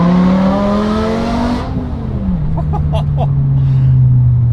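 A modified BMW M5 V10 Touring engine revs loudly up close, its pitch rising and then dropping as the driver shifts, before settling into a steady drone.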